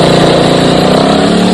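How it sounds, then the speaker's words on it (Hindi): A motorcycle engine runs loud and steady close by, with a continuous buzzing drone. "अरे बाइक हटा सामने से"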